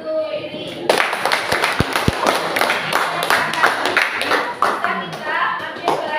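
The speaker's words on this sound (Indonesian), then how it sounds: "beri aplaus untuk Riri" Classroom applause for a student named Riri: a burst of dense clapping from many hands, fairly close and loud, running steadily for several seconds with children's voices mixed in.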